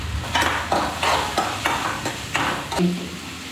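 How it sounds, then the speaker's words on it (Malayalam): Onions and green chilies sautéing with mustard seeds in a pan, stirred in about six regular scraping strokes over a soft sizzle, close and alone. "സവാളയും പച്ചമുളകും ഒന്ന് വഴണ്ട് വരാനായിട്ട് ഒന്ന് ഇളക്കി കൊടുക്കാം"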